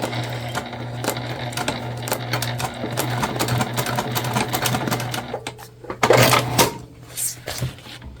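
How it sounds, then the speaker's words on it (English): A sewing machine top-stitches through tan tote bag fabric, a rapid, loud mechanical rattle running steadily up close, then pausing and resuming in shorter bursts near the end, with no talking. "we are top stitching on our tan material, so our seam allowance is going to go behind it"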